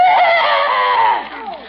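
A voice imitates a spooky zombie noise, a brief wavering, whinny-like moan that trails off in under two seconds.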